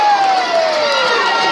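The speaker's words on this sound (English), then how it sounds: "Crowd erupts here at Michael's 8th Avenue." Boxing crowd at Michael's Eighth Avenue in Glen Burnie, Maryland, roaring and cheering steadily throughout, loud and dense, with a thin whistle-like tone sliding downward over the noise.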